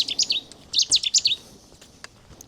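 A sedge warbler sings in Dutch wetlands at sunrise, giving bursts of bright, scratchy chattering phrases in two groups, fairly close and clear, then quieter scattered clicks and rustles in the background.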